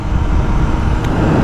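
BMW M1000R superbike engine pulling hard at about a third throttle with a passenger aboard, a loud, steady, low roar with rushing wind noise throughout.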